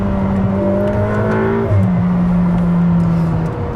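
A Ferrari F8 Spider engine in race mode revs hard, pitch climbing and dropping with a brief gear-shift dip, loud and close throughout.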